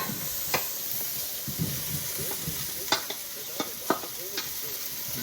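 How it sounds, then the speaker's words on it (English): Cauliflower sizzles in butter in a hot pan, a loud continuous hiss of frying broken by sharp scrapes and knocks as the pieces are tossed and stirred. "I'm going to start by throwing in some of the cauliflower"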